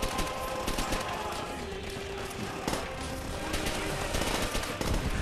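Rapid gunfire in Call of Duty: World at War, dense overlapping rifle and machine-gun bursts crackling continuously through a noisy battlefield, fairly distant and steady.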